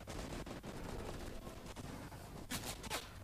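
Rapid overlapping gunfire in a Fortnite Battle Royale match, dense crackling bursts that swell louder near the end over a steady noisy backdrop.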